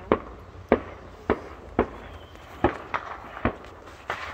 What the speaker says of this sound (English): And then we've got our neighbors setting off fireworks